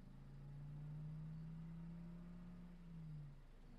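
A car engine in a video game drones steadily at low pitch, rising slightly and then fading at the end, heard quietly on its own without talk.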